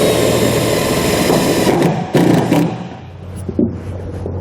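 A power driver with a 1/4-inch socket drives a bolt while a Curt fifth-wheel wiring harness is installed on a 2015 GMC Sierra 2500, whirring steadily and loudly up close, then stopping with a few sharp clicks and clunks.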